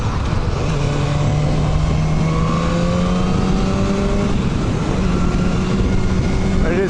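A BMW S1000R motorcycle engine revs steadily while riding, its rising whine carried under loud, constant wind rush throughout.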